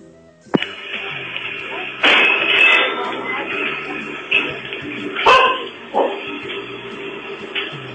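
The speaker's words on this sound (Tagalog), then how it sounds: "Galit yung aso niyo." A dog barks repeatedly and angrily, loud and close, in sharp bursts mixed with yips and whimpers, over an indoor broadcast background with occasional voices.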